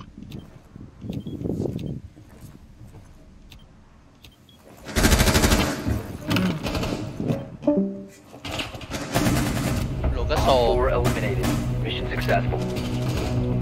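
Gunfire in the Rainbow Six Siege video game, with bursts of automatic fire and sharp shots that grow loud and dense in the second half, mixed with game effects and background sound.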